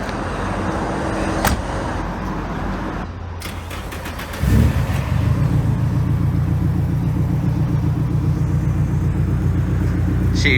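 A car engine rumbles steadily, first at a low idle and then louder and fuller as the car gets moving.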